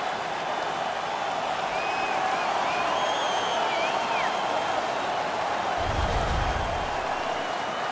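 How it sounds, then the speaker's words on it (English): The home arena crowd in the NHL 17 hockey video game roars after a fight ends, a steady dense wash of cheering and applause, with a low thump near the end. "The home crowd is ecstatic. They're making all kinds of noise."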